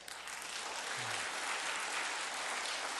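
A Sunday church congregation applauds in welcome for visiting family, a steady, even spread of many hands clapping throughout the room, moderately loud and continuous.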